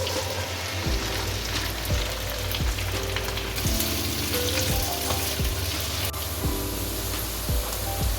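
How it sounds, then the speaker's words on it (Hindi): Cut okra frying in hot oil gives a loud, dense, continuous sizzle like heavy rain, with a few faint knocks of stirring underneath. "जब ऑयल हल्का सा गर्म हो जाए तो इसमें ये कटी हुई भिंडी वो फ्राई कर लें"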